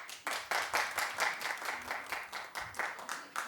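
Studio audience claps in quick bursts at a talk show, a close, rhythmic run of hand claps that swells and fades repeatedly over a few seconds with no voices on top.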